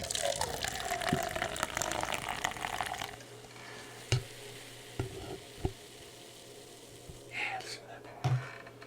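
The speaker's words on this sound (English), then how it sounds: "We can get the pour." An influencer drink pours from a can into a cup with a loud, fizzing sizzle for a few seconds, then settles into faint crackling bubbles broken by scattered light taps and clicks.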